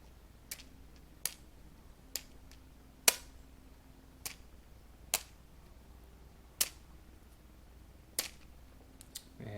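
Someone strikes a match, giving a series of sharp, crisp snaps roughly a second apart, about eight in all, each standing out alone against a quiet room.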